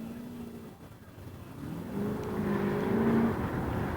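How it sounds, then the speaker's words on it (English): A Datsun 240Z revs hard and spins its tires at an autocross event, the engine note rising and growing louder over four seconds as it pulls away, a steady mechanical roar with no talking. "Oh, this is a tire smoker."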